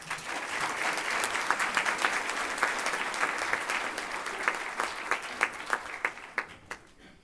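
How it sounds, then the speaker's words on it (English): Audience applause for a speaker at a community event, steady dense clapping throughout that thins toward the end with a few louder individual claps. "Give her another round of applause"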